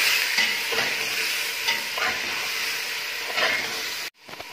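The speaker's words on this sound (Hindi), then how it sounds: "अदरक लहसुन का पेस्ट लेंगे यहाँ पे दो चम्मच टी स्पून, ठीक है. फिर इसको थोड़ा सा भून लेंगे." Ginger garlic paste frying in a pan over high heat, a loud, hissing sizzle with several scraping stirs, close and continuous until it cuts off abruptly near the end.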